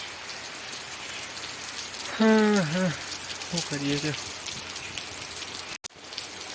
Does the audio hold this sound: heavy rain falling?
yes